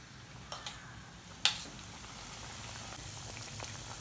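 Chicken pieces for chilli chicken sizzle in oil over a low flame, a steady soft crackle and hiss with a few sharper pops near the start, close and alone without talk.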